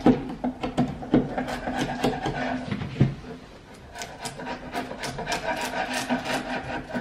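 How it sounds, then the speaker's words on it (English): A sharp chisel scraping paint off hardwood floor in a 1925 house, a run of rough, rasping strokes close up, loud and rhythmic with a short lull midway before the scraping resumes. "Sometimes it can be tricky to take a piece and open it up until you have enough space to have the chisel all the way on the wood"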